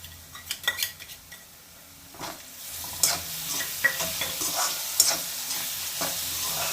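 Chili paste stirred into cooked potatoes in a pan while making sabudana khichdi: a few spatula scrapes and clinks first, then a steady sizzling hiss swells, broken by sharper scraping strokes, with no talking.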